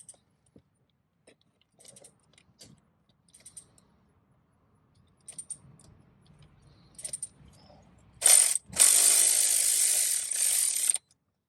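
A ratchet tightens the idler pulley tensioner bolt on a Mercedes BluTec engine, giving scattered faint metallic clicks and ticks that build into a loud, continuous run of rapid ratcheting near the end.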